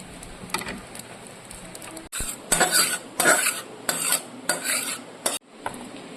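Eggs going into a pan of Bengali egg curry, with a run of loud clattering, stirring and scraping bursts against a steady sizzling simmer, broken by brief pauses.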